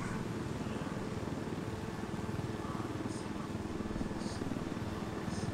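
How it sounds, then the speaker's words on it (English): Helicopter flying in Ghost Recon Wildlands, a steady low rotor thrum and engine drone that holds at moderate level throughout, with faint brief chirps above it. "Let's see how good I can get flying this helicopters in this game"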